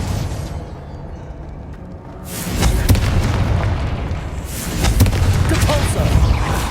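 A Confringo spell in Hogwarts Legacy bursts with a deep booming blast, followed by a second swelling explosive rumble a couple of seconds later, loud and close over game ambience.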